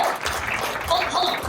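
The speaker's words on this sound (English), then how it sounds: "Would everybody please take a moment and give Aria a big round of applause?" An audience claps and applauds for Aria at a live stage show, a short burst of close applause mixed with voices in the room.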